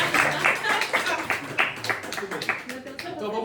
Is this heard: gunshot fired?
no